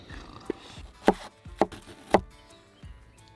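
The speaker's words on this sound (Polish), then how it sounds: "Posiekamy cebulkę, no." A knife chops onion on a board outdoors, giving four or five sharp, separate thuds spaced roughly half a second apart, fairly close and moderately loud with no talking over them.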